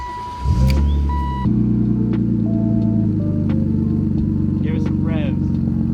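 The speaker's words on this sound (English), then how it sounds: "here's how the car sounds when it first starts up" A BMW Z3 engine with a muffler delete cranks and catches, then settles into a loud, throbbing idle close by, with a deep rumble and a few faint clicks over it.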